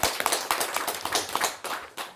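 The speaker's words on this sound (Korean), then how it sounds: "박수 한번 칩시다" An audience claps together at a Buddhist lecture on the Diamond Sutra, a short burst of close, uneven hand claps lasting about two seconds, with no talk over it.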